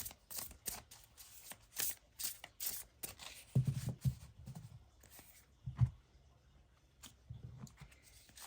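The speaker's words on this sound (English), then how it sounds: "Let's get your oracle cards lined up here." Shaman's Dream Oracle cards are handled, shuffled and laid out, giving quick soft riffling flutters early on, then a few gentle taps and slides as cards are set down, close and quiet.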